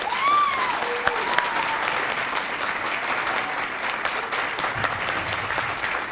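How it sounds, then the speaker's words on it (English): A big round of applause for city council candidates at a 2014 Seaside candidate forum, dense and sustained clapping from a full audience, loud and even throughout, with a few faint voices and whistles mixed in. "This would be a good time to give all the candidates a big round of applause."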